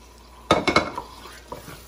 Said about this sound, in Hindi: अब हम इसमें मटर डाल देंगे